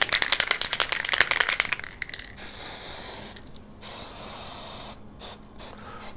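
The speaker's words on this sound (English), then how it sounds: "Scantist vanishing spray." Scantist vanishing spray is sprayed onto a denture to prepare it for scanning. A quick series of rattling clicks comes first, then several loud, close hissing bursts of varying length separated by short pauses.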